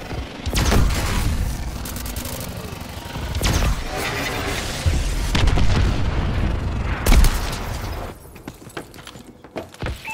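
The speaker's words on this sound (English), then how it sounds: "Missile strikes incoming." Missile strikes in Call of Duty: Advanced Warfare, several loud, close booming explosions at irregular intervals, each a sharp burst trailing into rumble, mixed with gunfire before fading to scattered quieter pops.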